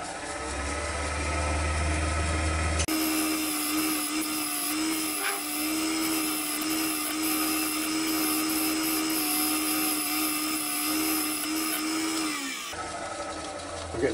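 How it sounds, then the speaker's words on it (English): A woodturning lathe hums loudly and steadily as a wide scraper makes fine finishing cuts on the outside top edge of a bowl, a continuous close whirring broken near the start and end. "I'm just putting a few finishing shaping cuts on the outside top edge now. Still using the scraper."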